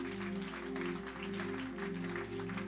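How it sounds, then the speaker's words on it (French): A church congregation clapping for the Lord, steady applause held throughout beneath a strong, sustained musical hum. "Clap for the Lord."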